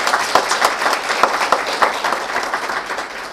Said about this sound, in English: request the audience to give a huge round of applause for our speakers for the day